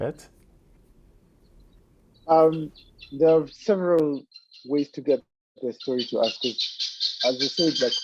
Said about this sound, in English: oh, yeah, some loud birds here.